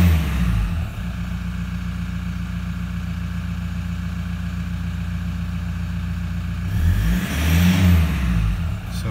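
A car engine idles steadily, then is revved up in a couple of swelling bursts that fall back to idle, heard close and loud with no talking.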